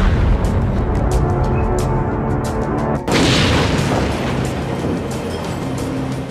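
A deep, booming supernova explosion effect used in a space documentary, a dense continuous rumble that swells with a sharp renewed surge midway and stays loud throughout, with no speech over it.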